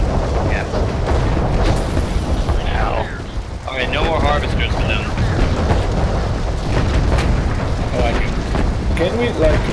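Harvester vehicle blowing up in Renegade X amid a continuous rumbling battle of booms and bursts, loud and dense throughout, with players talking over it.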